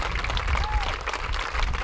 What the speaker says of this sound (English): You can clap for that, folks.